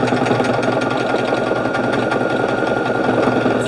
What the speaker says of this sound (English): It is doing some fine stitching in there.